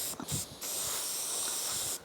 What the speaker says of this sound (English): So I'm just going to spray some of that on it.